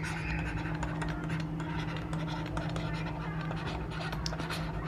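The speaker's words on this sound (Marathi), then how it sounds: "फिलॅन्थ्रॉपिस्ट नीट लिहितो" A pen scratches steadily across paper while the word philanthropist is written out, continuous and close, over a constant low electrical hum.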